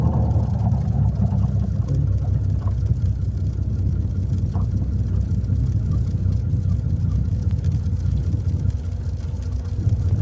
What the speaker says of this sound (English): go ahead and pull that throttle all the way out to idle